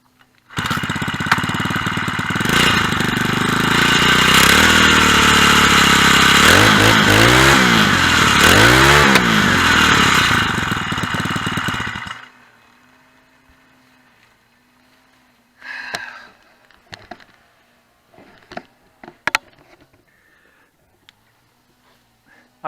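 A four-stroke motorised bicycle engine runs loud and close for about twelve seconds with a steady buzzing drone that wavers in pitch midway, then cuts off, leaving quiet with a few scattered clunks and brief handling noises.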